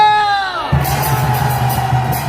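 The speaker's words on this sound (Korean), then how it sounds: "다같이 우리 함성 한번 발사!" A crowd at a political rally shouts and cheers together in a loud, sustained roar that follows a brief tone, close and dense throughout.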